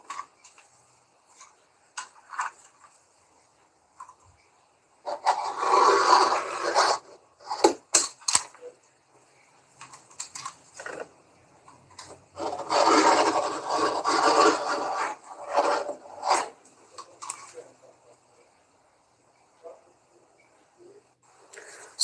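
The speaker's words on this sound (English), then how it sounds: "I'll use my rotary cutter to cut it off." A rotary cutter rolls through t-shirt fabric marked with tailor's chalk, making two separate bursts of dry, scratchy slicing with quiet pauses around them. No one speaks.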